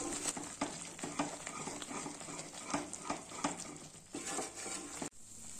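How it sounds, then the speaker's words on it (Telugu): Mysore pak mixture cooking in hot oil, stirred continuously in a pan, with steady close sizzling and repeated scraping strokes of the spoon, then a sudden stop near the end. "ఆయిల్ అంతా పోసాక 2-3 నిమిషాలు ఇలా కలుపుతూ ఉడికించుకుంటే చాలు."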